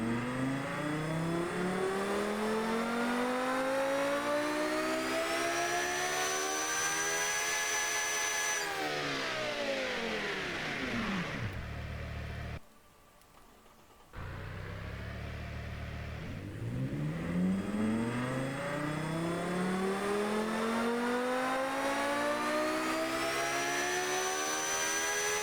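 A 6-liter V10 in the Automation car tycoon game revs on a dyno, climbing smoothly to a high whine, dropping back, cutting out briefly, then sweeping up again; loud, continuous and alone without voices.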